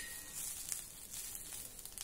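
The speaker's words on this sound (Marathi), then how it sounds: "कांदा लसूण मिरची देखील मी छान भाजून घेतली" Onion, garlic and green chilies roasting in a pan, giving a faint, steady dry sizzle with soft crackles and no voices.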